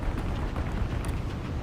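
A tank blowing up in the mobile game War Thunder Mobile, a sustained loud, dense low rumble that holds steady across the whole moment with no talk over it.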